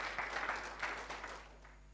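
Congregation in a church service clapping together, a dense, steady burst of applause that swells and then thins out toward the end, fairly distant and without voices over it.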